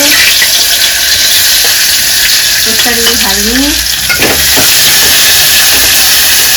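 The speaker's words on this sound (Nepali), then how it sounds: "अब म चाहिँ यसमा तरकारीहरु बिस्तारै बिस्तारै हाल्दै छु" Vegetables are added to hot oil and stirred for spicy Maggi noodles, giving a loud, continuous sizzle and hiss close up with scraping stir sounds. A voice speaks briefly over the cooking.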